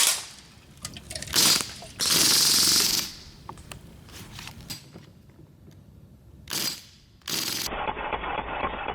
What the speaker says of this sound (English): It feels like a real full auto because it kicks back on every single BB.